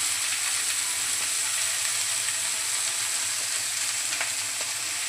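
Ridge gourd, chopped onion and green chili fry in a pan after fish roe, a steady bright sizzle filling the clip with occasional faint stirring ticks.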